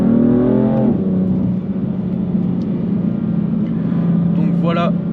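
A BMW M3 Competition F80 with optional DKG dual-clutch gearbox accelerates on the road, its engine note climbing, then dropping sharply at a rapid gear change before building again, with someone talking over it.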